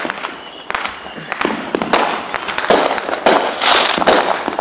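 New Year's fireworks burst repeatedly across the sky, a dense string of sharp cracks and pops at irregular intervals over a crackling wash, loud and fairly close.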